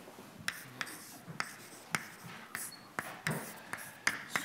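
Chalk or marker strokes writing an equation on a lecture-hall board, a string of short taps and scratchy marks at an irregular pace, close and moderately quiet, heard without speech.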